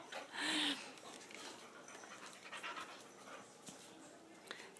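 A puppy pants and whimpers softly nearby, with a short louder whine at the start followed by quiet breathy panting and faint rustling.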